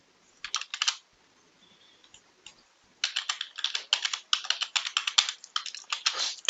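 Close typing on a computer keyboard while entering account details: a short burst of keystrokes, a pause, then a longer, busy run of rapid clicks, with no talking.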